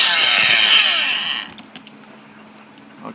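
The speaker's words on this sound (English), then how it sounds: "I'll just buff it real quick, just a couple minutes, really polishing in that shine." A 1500-grit polishing pad buffs a rare desert gemstone, a loud, steady high whir with faint rubbing that runs for about a second and a half before abruptly stopping, leaving a quiet motor hum behind.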